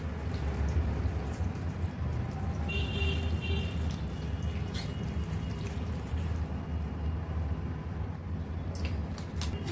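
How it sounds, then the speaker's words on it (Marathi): Hot water poured from a pot onto spinach leaves in a home kitchen, a steady continuous splashing pour close by with no talking. "पालकमध्ये गरम पाणी टाकते."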